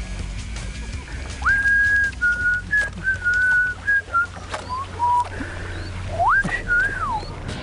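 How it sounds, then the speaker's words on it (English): Someone on a redfish tournament fishing boat at Lake Charles, Louisiana, whistles a wavering, sliding tune in several phrases, loud and close, over a low engine rumble and light background noise. "Trying to whistle their way back into some fish."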